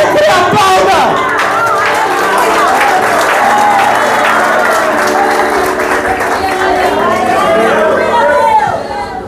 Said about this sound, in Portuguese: E se você crê, aplauda.